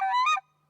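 A hand-blown goose call imitates a juvenile speckled-belly (whitefront) goose, giving one short, close, reedy honk that rises slightly before cutting off.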